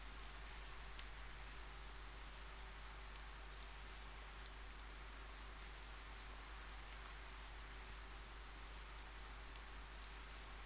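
Steady rain in the Persona 4 video game, a soft continuous patter with scattered brief drop ticks, fairly quiet and even throughout, with no voices.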